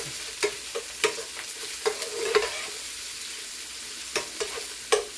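Onion sautéing in a pan, with a soft continuous sizzle broken by a string of sharp scraping clicks from stirring at irregular intervals, heard alone at moderate loudness.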